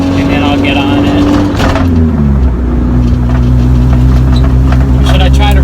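Honda Civic EG fitted with an Si transmission pulling away and accelerating, a steady droning engine note that dips briefly as it shifts then holds on, with faint talk inside the cabin.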